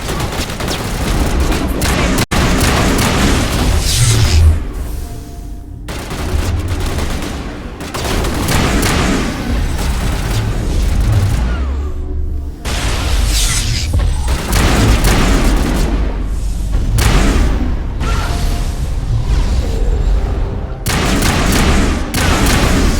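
Sci-fi firefight with heavy, near-continuous gunfire and booming explosions, loud and dense throughout, with brief lulls and occasional voices buried in the din.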